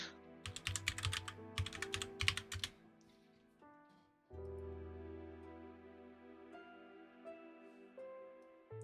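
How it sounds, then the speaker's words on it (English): Quick bursts of clicking on a computer keyboard, close and fairly faint, in uneven clusters over the first few seconds, followed by sustained tonal game music. "I really do like the typing."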